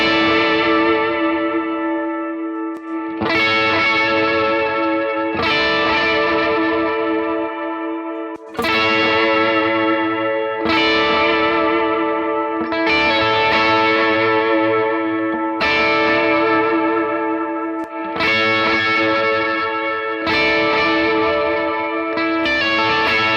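Electric guitar harmonics played high on the neck run through wet delay and reverb effects on a Fractal FM3, with bright bell-like chimes struck about every two to three seconds, each ringing out and trailing into echoing tails, loud and alone.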